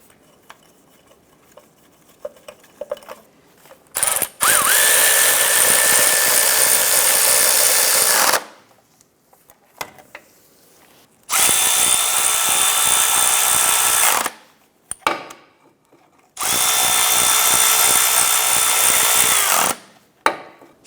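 Three sustained bursts of a power tool, each several seconds long with quiet gaps between, driving the starter bracket bolts tight on a 2006-2013 Chevrolet Impala; loud and close, no talking.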